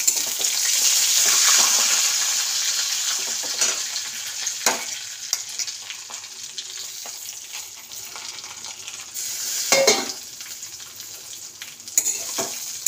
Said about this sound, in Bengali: তো এটাকে ভালো করে ভেজে নিতে হবে।